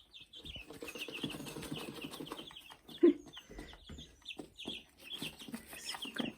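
Chickens in a backyard coop cluck and murmur softly at close range, with scattered chirps and one sharper squawk partway through, a faint, busy flock sound with no talking.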